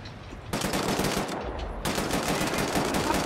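Sustained loud automatic gunfire in the PC shooter Wolfenstein: The New Order, in two dense rapid bursts separated by a brief dip, with no talking.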